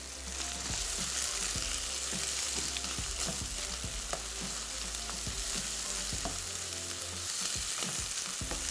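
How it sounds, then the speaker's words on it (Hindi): Chicken being fried hard and stirred in a pot gives a loud, continuous sizzle throughout, with irregular scraping stir strokes mixed in and no talking. "चिकन को खूब अच्छे से आपने भूनना है जनाब"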